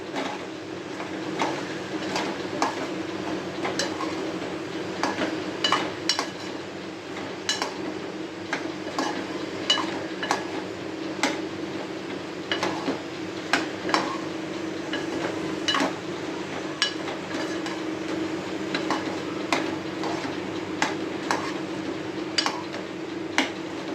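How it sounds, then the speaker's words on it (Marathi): Food with turmeric is sautéed over a medium flame while a utensil scrapes and clinks against the pan in frequent irregular taps over a steady low frying background, without speech. "हे पहिलं आपण मीडियम फ्लेमवरती छान परतून घेऊया."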